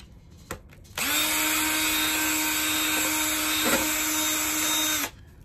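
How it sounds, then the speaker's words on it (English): A power drill in a metalworking shop bores through metal, whining at a steady high pitch for about four seconds before spinning down, loud and close, with a short tap just before it starts. "when I'm trying to drill through metal"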